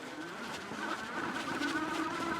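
Wallke H9 dual-motor electric bike accelerating uphill in dual motor mode, with a steady electric motor whine and a rising tonal hum over wind and road noise, sustained and fairly close.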